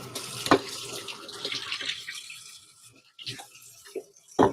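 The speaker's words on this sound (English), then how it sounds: "Let me wash my hands real quick." Water runs from a kitchen sink tap as hands are washed under it, a steady close splashing stream that trails off partway through, followed by a few clinks and knocks around the sink.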